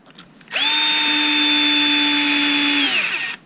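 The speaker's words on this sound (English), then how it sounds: "Now you got to run your screws in." Cordless power drill runs screws into an HB Racing D817V2 RC buggy kit, one loud close whine held for about two and a half seconds before winding down, with no talking.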